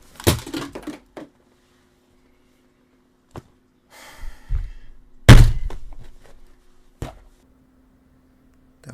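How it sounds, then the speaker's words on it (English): A desk is slammed in frustration, giving a few hard, heavy thumps in a quiet room, one especially loud and close, with scattered smaller knocks and bumps around it. "That was the sound of me slamming my desk severely"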